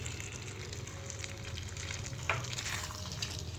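Capsicum and cabbage stir-frying with noodle vegetables in a hot pan, a steady bright sizzle with occasional scraping stirs and one sharper clank, close and continuous, no voices.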